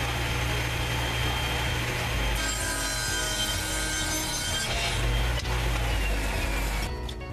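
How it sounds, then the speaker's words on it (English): A power saw cuts a wooden lower brace for a side table at a 5-degree angle, giving a steady, loud motor drone with a rising cutting whine through the middle and no talking. "Now I'm cutting that lower brace narrower and with that 5-degree angle on it."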